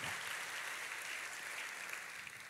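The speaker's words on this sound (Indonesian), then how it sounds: "tepuk tangannya pula yang paling meriah buat Tuhan kita" A church congregation claps in steady, unbroken applause for a few seconds. The sound is fairly soft and distant and evenly sustained.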